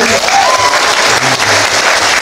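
Dense, steady applause from a church youth celebration crowd in Pujon, many hands clapping together at close range and high volume, with low voices murmuring underneath.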